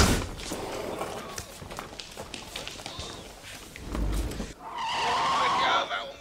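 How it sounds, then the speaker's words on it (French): A car in an animated Tintin film pulls away with tire skids and engine roar amid scuffling movement, swelling loudly near the end, with a voice briefly heard. "Une voiture. Ils vont l'emmener en voiture."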